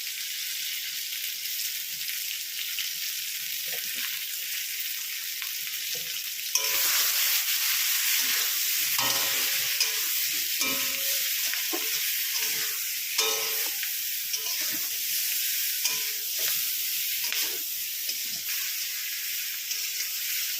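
Spices sizzle and fry in hot oil in a pan while a fish and green banana curry is being cooked, a steady close hiss that grows louder partway through, with occasional stirring scrapes.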